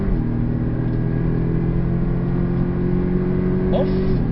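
A Porsche 718 Cayman S flat-six at full throttle on the Portimão circuit, with a loud, steady engine drone and rising harmonics from inside the cabin.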